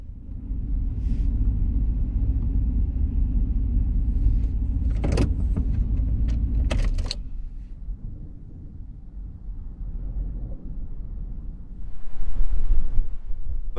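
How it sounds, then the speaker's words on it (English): Strong wind buffets the microphone on a seaside pier at Port Orford, Oregon, a loud continuous roar that drops off midway, leaving a softer breezy rush with distant surf before another gust swells. "The wind's blowing here."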